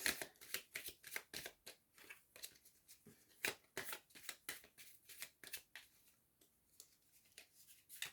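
Tarot cards are shuffled and drawn by hand, a run of quick, soft riffling flicks and taps in an uneven rhythm, close and quiet with no talking.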